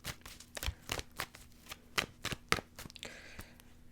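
Tarot cards being shuffled by hand close to a microphone, a run of crisp riffling bursts and slaps in an uneven rhythm, with no talk.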